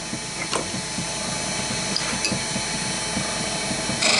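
Wood lathe turning a chess king piece while the tool tapers the head: a continuous dense whirring hiss of cutting, close and steady, with faint scraping ticks and a brief louder swell at the end.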